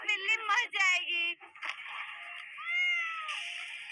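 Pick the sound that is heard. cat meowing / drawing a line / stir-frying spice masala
cat meowing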